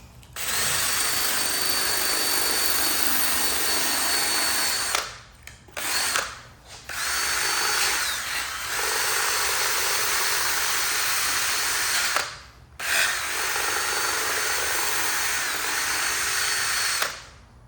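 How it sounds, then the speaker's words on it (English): A wire brush grinds continuously against a model ship build to distress the surface, a loud whirring, drill-like scrubbing that runs for long stretches with a few brief pauses. "Use a wire brush."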